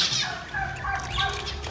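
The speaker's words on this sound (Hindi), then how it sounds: "ये हमारे बटेरे साहब, छोटे छोटे से बटेरे मैं आपको दिखाती हूँ।" Small quails call with bird chatter while coming to eat scattered grain, a busy continuous mix of chirps and clucking sounds close by, without talk.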